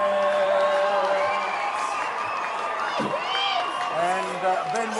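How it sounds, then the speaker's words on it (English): A crowd at a first-grade rugby league grand final cheers, whoops and applauds just after the national anthem, a dense sustained roar with shouts rising above it and voices mixed in. "that is the most applause that I've ever got for singing"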